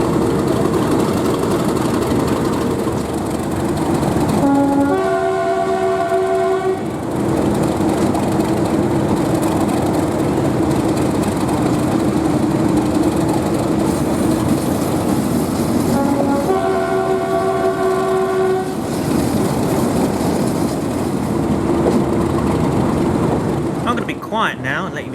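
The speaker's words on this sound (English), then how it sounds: "enjoy the thrash of this Class 37 along the Mid Norfolk Railway" A Class 37 diesel locomotive engine roars steadily nearby on the Mid Norfolk Railway, its deep rumble sustained, with two loud horn blasts sounding partway through.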